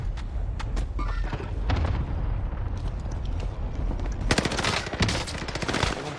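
Rapid machine-gun bursts and sharp gunshots in a video game, joined near the end by a dense barrage of cluster-strike impacts, loud and continuous with no pause.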